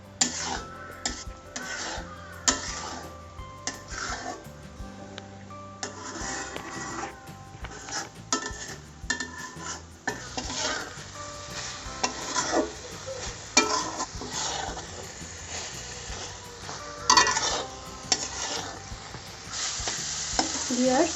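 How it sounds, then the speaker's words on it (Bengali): Chhana, fresh cottage cheese for sandesh, being stirred and fried in a pan, with a constant sizzle under repeated scraping of the spoon across the pan bottom, steady and close throughout. "আমাদেরকে এভাবে একটু ভাজতে হবে"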